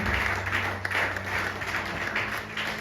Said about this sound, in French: Put your hands together for Jesus. Acclamez pour Jésus.